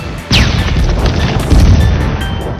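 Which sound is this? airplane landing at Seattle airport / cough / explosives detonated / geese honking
explosives detonated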